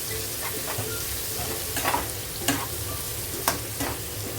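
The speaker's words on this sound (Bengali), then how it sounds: "এবার পেঁয়াজটাকে লাল লাল করে ভালো করে ভেজে নিতে হবে এর মধ্যে ভালো করে নাড়াচাড়া করে ভেজে নেবো পেঁয়াজটা" Onions fry in hot oil for a chicken curry, a steady close sizzle with a spatula stirring and scraping the pan in several sharp strokes, no talking.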